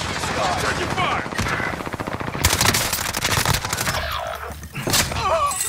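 Automatic gunfire in Call of Duty Vanguard Warzone, sustained rapid bursts close and loud, with a brief lull near the end before more shots.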